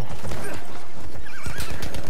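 A horse in the video game Battlefield 1 whinnies loudly with clip-clopping hooves, all under dense, busy game noise, with brief faint voice traces.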